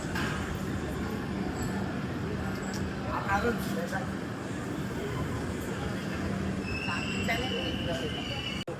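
Devagiri Express pulling into Basar railway station, a steady broad rumble of the moving train with a faint high wheel squeal, continuous and fairly close, with a voice talking underneath.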